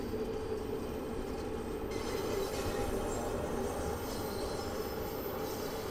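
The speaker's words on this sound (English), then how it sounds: "I'm now allowing the train to coast at this point." A London Underground Bakerloo Line train coasts on the rails in the Train Sim World 2 video game, giving a steady, continuous rumble of wheels and carriage noise with faint squeals from the wheels and no talking.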